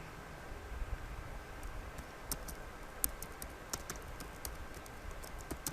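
Quiet computer keyboard typing, soft irregular key clicks in short bursts over faint background hiss, close and alone without talk.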